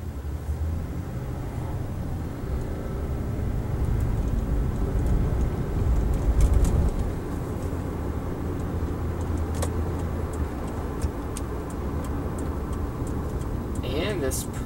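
A 2008 Lexus IS on a test drive, with a steady close cabin rumble of engine and road noise that swells slightly midway and a voice speaking at the very end.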